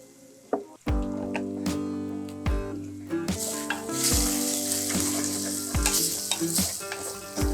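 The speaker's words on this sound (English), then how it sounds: "after the oil is boiled and all the ginger and garlic turn into golden color" Ginger and garlic frying in oil, a close, loud sizzle that builds and crackles steadily, broken by several sharp clinks of a utensil against the pan.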